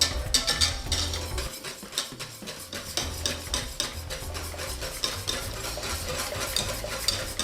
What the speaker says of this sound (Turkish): Sürekli karıştırarak muhallebiyi pişiriyorum